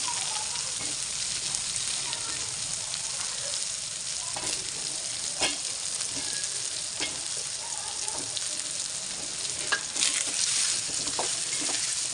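Steady, dense sizzling of eggplant frying in a hot pan, with occasional stirring clicks and crackles; no voices.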